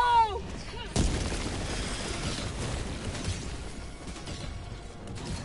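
A grenade goes off in the co-op shooter Helldivers 2: a sharp, loud blast about a second in, then a dense, sustained roar of battle noise and gunfire that stays close and heavy.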